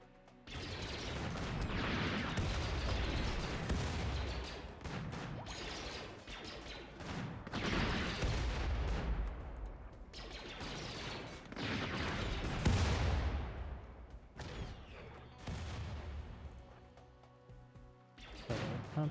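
Uranium slug turrets fire in the video game RimWorld, with dense rolling bursts of heavy gunfire, booming impacts and mechanical clatter that surge and ebb in close, loud waves throughout.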